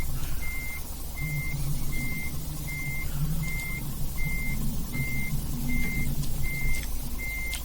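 A truck reverses a trailer into a parking spot in Euro Truck Simulator 2, its backup alarm beeping in an even, repeated pattern over a steady low engine idle.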